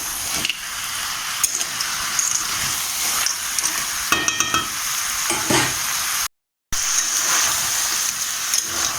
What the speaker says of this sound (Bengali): আমরা কিন্তু আরও 5 মিনিট একটু কষিয়ে নেব